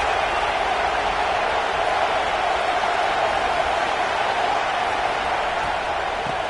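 A stadium crowd at a South Carolina versus Notre Dame football game keeps up a steady, roaring wash of noise with no breaks, loud and distant all at once.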